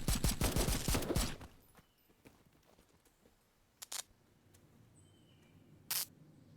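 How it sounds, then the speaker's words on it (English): Gunshots in a video game: a rapid burst of fire at the start, then a few sharp isolated cracks spaced out over a quiet background. "Gunshots?"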